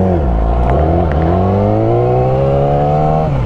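A car engine revs up steadily as it passes by, the pitch climbing over a few seconds, loud and close, with no one talking.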